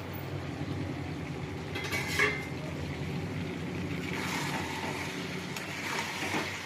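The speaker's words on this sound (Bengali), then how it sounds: "এবার আমি ঢাকাটা খুলবো" A metal lid is lifted off a cooking pot of chicken and giblet curry, giving a few light clinks and scrapes over a low, steady kitchen background.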